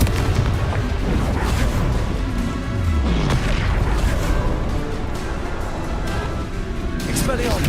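Confringo fire spells burst in a Hogwarts Legacy duel, loud booming blasts and crashing impacts layered over dense battle noise. A voice calls out over the explosions.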